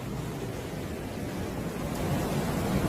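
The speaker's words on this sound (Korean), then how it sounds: "보글보글 보글 따뜻한 물 속으로 들어가면 너무 따뜻해요." Warm water bubbles steadily in an outdoor hot-spring bath in the mountains on a cold day, a dense, continuous rushing burble that stays close and even throughout, with no voices.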